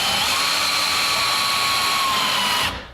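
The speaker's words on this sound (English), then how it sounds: "line up your track and screw this in through the bottom" Power drill driving screws through a garage door track into the wall, a steady high-pitched whirring motor running continuously for a few seconds before stopping abruptly.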